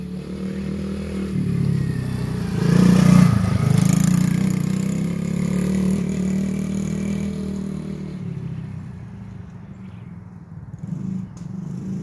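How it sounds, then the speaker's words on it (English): A Kayo Fox 70 kids' quad four-wheeler engine runs on a backyard track, a steady motor drone that swells and revs around the middle, then eases and fades toward the end. "Mad Max on the new Kayo Fox 70. Little quad four-wheeler."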